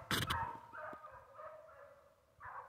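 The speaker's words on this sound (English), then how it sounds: "Listen to them dogs." Several dogs barking and yipping at a distance outdoors in snowy winter, with a faint chorus of howl-like cries following one sharp nearby bark.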